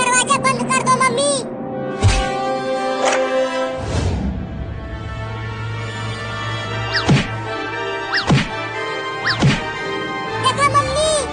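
Several loud thumps of a cartoon cat banging against a door at uneven intervals, sharp and close, over a continuous tonal background with voices.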